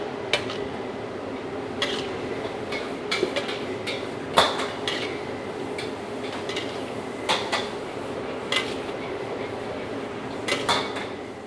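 Chicken cooking with spices in a pan, stirred with a utensil that clinks and scrapes against the metal in irregular sharp taps over a steady low background hiss, with no talk.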